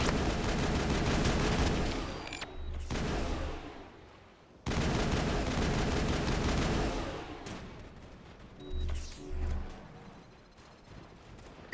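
Repeated gunfire bursts and heavy weapon blasts in the Mass Effect video game, loud and sustained with brief pauses and a few deeper thumps near the end.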